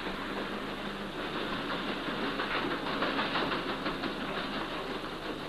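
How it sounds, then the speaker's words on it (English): Ship engines throb steadily as a heavy-laden vessel is eased from her berth into the main channel at Manchester docks, a constant rumbling drone with rhythmic pulsing, moderately distant. "Powerful engines throb into life, and the heavy-laden vessel is eased from her berth into the main channel"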